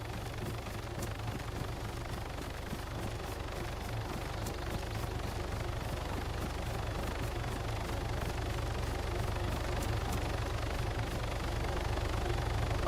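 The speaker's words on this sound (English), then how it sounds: "We're pushing towards heli sound" Helicopter in the DayZ survival game, a steady low rotor and engine drone that holds evenly throughout at moderate distance, with no voices over it.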